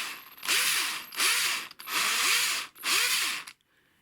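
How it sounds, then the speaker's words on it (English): A power drill bores into 9mm MDF board in four loud, steady bursts of roughly half a second to a second each, separated by short pauses, with the motor's pitch dipping slightly during each run before the tool stops. "I just drill at the bottom of the 9mm MDF"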